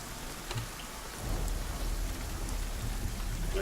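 Steady rain with a low thunderous rumble that swells after the first second, continuous and enveloping with no voices.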